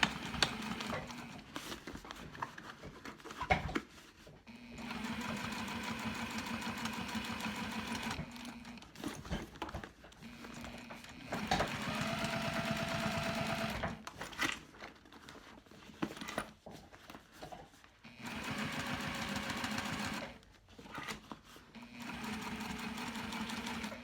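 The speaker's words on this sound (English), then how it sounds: "now I'm just going to skip over that thick seam and continue sewing" A sewing machine stitching a seam on a fabric bag, running in long steady bursts with brief pauses between them, close and clear with no voices.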